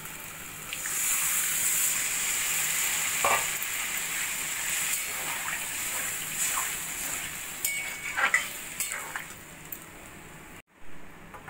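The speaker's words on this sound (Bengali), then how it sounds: "এবার দিয়ে দেব আমি পরিমাণ মতো জল।" Water poured into a hot pan of frying potato and pointed gourd curry, a steady sizzle and hiss with stirring clatter and splashes throughout, cutting off abruptly near the end.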